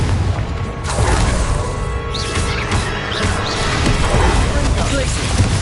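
Confringo blasting spells go off during combat in the Hogwarts Legacy video game, loud booming explosions and crashes layered over battle noise, with voices sounding amid the chaos.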